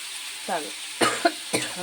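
Three short, harsh coughs close to the microphone, spaced about half a second apart, with quiet in between.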